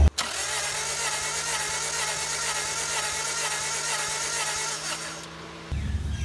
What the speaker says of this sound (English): I'm gonna turn that over one more time.